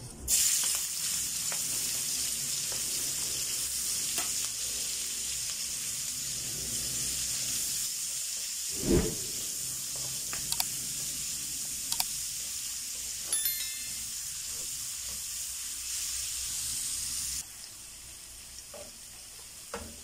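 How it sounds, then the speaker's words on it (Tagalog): Garlic and ginger sizzling in hot oil in a pan just used for frying tilapia, a steady loud frying hiss throughout with occasional stirring clinks and taps, no talking. "Ngayon, gisihin na po natin ang bawang, ang luya."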